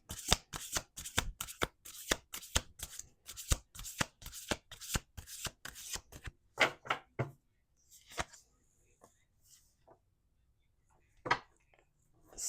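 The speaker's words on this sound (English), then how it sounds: "Last shuffle." A deck of tarot cards is riffled and shuffled in quick rhythmic bursts of crisp flutters, close and clear, easing into a few sparse taps and a last short shuffle.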